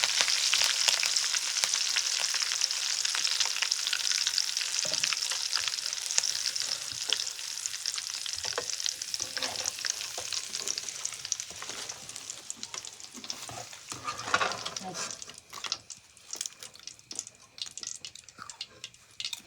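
Curry leaves frying in hot oil in a pan, a steady bright sizzle and crackle that settles into softer, sparser popping toward the end, with no talking.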